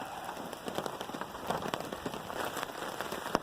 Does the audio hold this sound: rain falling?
yes